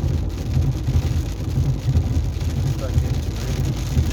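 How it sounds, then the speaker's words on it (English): Rain falling on a moving car in the Kensington area, a dense, steady patter over low road rumble from the vehicle, continuous and fairly close throughout. "So now it is starting to rain."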